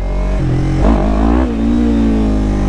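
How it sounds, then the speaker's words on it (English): A Yamaha R3 sport motorcycle's engine is held loud and close, then rises in a quick revving swell on a throttle roll before settling back to a steady drone. "you just give the R3 a little roll on it, it'll really bounce"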